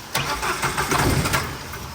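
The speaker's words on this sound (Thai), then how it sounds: "ลองติดเครื่องดูดิ ลองติดเครื่องดูกันนะ" A car long left parked and failing to start is cranked. The starter whirs with rhythmic chugging pulses as the engine tries to catch, loud and close, with no speech over it.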